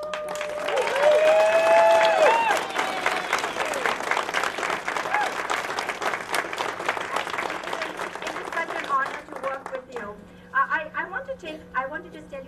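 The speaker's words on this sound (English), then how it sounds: "all of the staff present can just raise your hands, and everyone just give them a round of applause" An audience at a library centennial celebration claps in sustained applause for the staff, loud at first and gradually thinning into scattered claps, with a voice speaking over the start.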